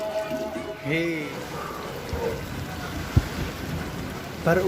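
A thunderstorm with heavy rain and flooding, heard as a steady wash of rain with a sharp thunder crack partway through, while a person speaks over it.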